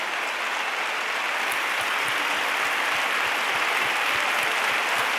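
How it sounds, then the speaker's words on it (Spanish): Strong, sustained applause from a large concert crowd at La Cartuja stadium in Seville, greeting a choir; dense steady clapping fills the whole stretch at even loudness, with no voices over it. "ese fuerte aplauso para este maravilloso coro"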